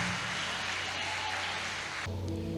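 A church congregation claps in praise during a Portuguese-language worship service, a dense, even wash of applause throughout that ends abruptly.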